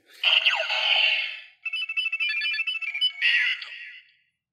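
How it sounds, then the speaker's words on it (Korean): DX Build Ride Watch toy from Kamen Rider Zi-O plays loud electronic sound effects: a swooping synthetic tone, then a choppy beeping melody and a final burst, alone with no talking. "라이드워치 이렇게 두 개가 소리가 나고 빛도 나요."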